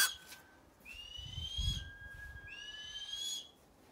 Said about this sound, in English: Right, here's a barn owl.